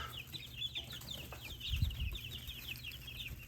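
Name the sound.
chickens clucking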